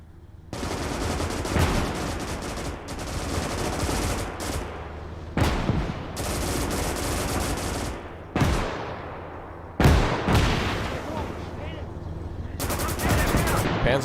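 Machine guns fire loud repeated bursts in the WWII game Gates of Hell, long rattling volleys broken by brief gaps and sharper gunshots, with a voice talking in the mix.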